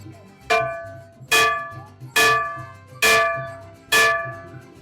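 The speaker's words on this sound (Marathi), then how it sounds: "त्याचबरोबर इकडे सुद्धा आपल्याला घंटानाद करायचा आहे" A metal bell rung five times at a steady rhythm, each strike a loud, bright clang with a ringing decay that carries over into the next, close and clear with no one talking.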